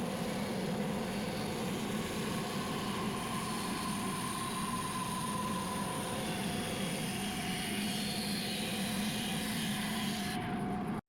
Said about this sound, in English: the bandsaw makes this work super easy